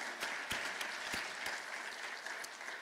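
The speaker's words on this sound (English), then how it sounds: "So a round of applause for Sam in California." Applause for an award recipient at a university arts, humanities and social sciences awards ceremony, a steady wash of clapping from a seated audience with scattered sharper claps, continuous and fairly close.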